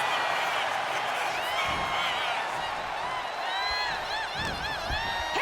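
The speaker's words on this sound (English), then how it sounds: "She's rallying the crowd behind her." A video game arena crowd in WWE 2K26 cheers and whoops through a wrestling match, with rising shouts building in waves and swelling again near the end.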